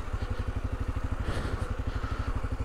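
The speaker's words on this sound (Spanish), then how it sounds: "menos mal que tengo una moto liviana." A light motorcycle engine putters in a rapid, steady rhythm as the bike rolls along loose, rough ground at the Pichachén border pass in the Chile–Argentina Andes, with faint clattering.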